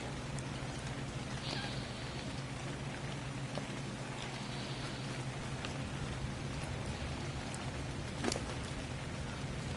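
Steady rain falls in the video game Ark Survival Ascended, a constant, even hiss of drops on surfaces with a few faint thuds and no talking.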